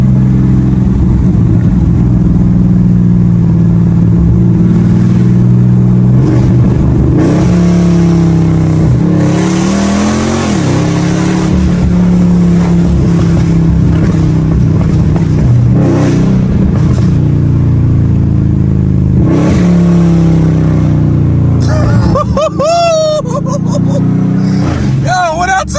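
A tuned, cammed SRT car engine revs loud and close while driving, rising and dropping through gear shifts with a choppy idle lope, and someone talks over it.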